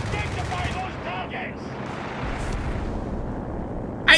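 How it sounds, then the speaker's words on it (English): Artillery shell fire in the video game Company of Heroes 3, a dense rumbling barrage of booms under a commentator's talk, ending with a sharp, bright crack. "Almost had a 2-pounder shell to the face."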